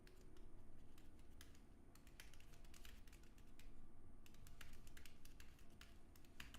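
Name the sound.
typing on a computer keyboard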